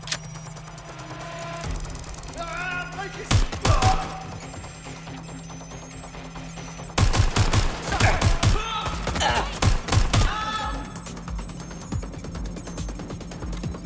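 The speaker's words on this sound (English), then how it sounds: "Incoming fire!" Bursts of gunfire from the video game Watch Dogs: Legion come in two dense volleys of rapid shots among electronic game sounds and tones, loud against a steady background.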